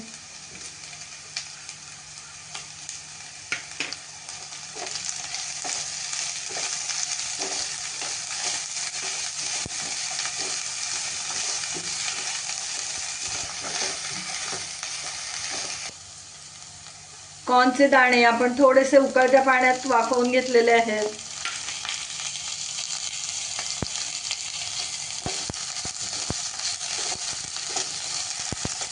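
Chopped cabbage and steamed corn kernels stir-frying in a pan over a high gas flame, a steady broadband sizzle running throughout beneath a voice speaking, with a brief stretch of louder talk near the middle.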